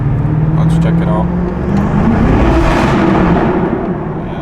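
BMW F90 M5 launching in rear-wheel-drive mode on cold tires, a loud sustained engine roar with rough, juddering wheel hop throughout, close by, with people talking over it.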